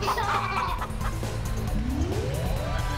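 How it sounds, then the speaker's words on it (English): Chicken clucking in That Dragon, Cancer, loud, close squawks and clucks over a busy game background, with a rising tone sweeping upward near the end. "Chicken!"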